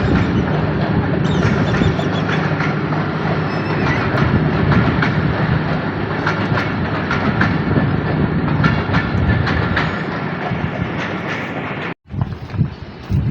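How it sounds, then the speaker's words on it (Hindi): A train rolls along tracks that run between two Mughal-era tombs in Lahore, a loud steady rumble with clickety-clack of the wagons and wind buffeting the microphone, ending in a sharp break near the close. "भाई बहन के मकबरे के दरमियान ट्रेन चलती हुई।"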